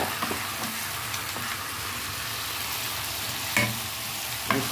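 Cut eggplant sizzles in a frying pan for an aloo baingan dish, a dense constant crackle with a few sharp spoon scrapes near the end. No voices.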